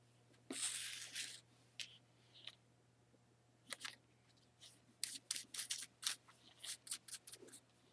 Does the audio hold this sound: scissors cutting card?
yes